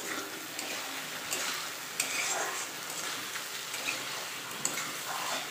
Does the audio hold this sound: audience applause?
no